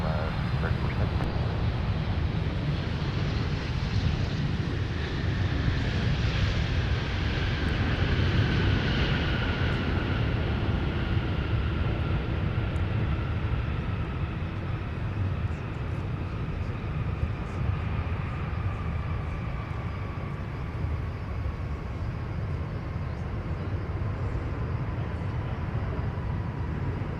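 Ex-EVA Air Boeing 747 landing at Minneapolis–St. Paul airport after a flight from Louisville, a long steady jet roar with slowly falling engine whine, heard from a distance.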